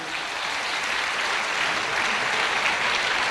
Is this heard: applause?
yes